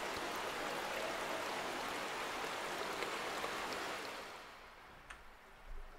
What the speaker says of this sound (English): let's put this here and activate the water pump.